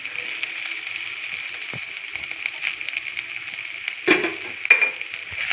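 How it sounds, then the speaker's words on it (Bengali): Chopped green chillies fry in a pan with a soft, quiet sizzle, stirred now and then with a few light scrapes and knocks near the end. "ভালো করে নেড়ে নেব। দিয়ে দিচ্ছি লঙ্কা কুচি।"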